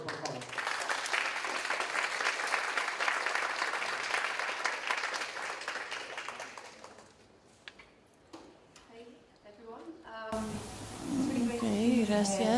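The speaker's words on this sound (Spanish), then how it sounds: "Un aplauso, por favor." An audience at a science and art lecture gives the speaker steady applause that fills the room, loud and sustained, then fades into scattered claps before a voice begins speaking.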